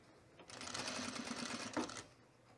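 A sewing machine runs in one short, close burst of about a second and a half, stitching a seam on a puffer vest, then stops.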